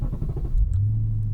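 Audi RS4 B7 with its 4.2 V8 firing up, a low rumbling start that settles into a steady, close idle drone with brief higher clicks over it.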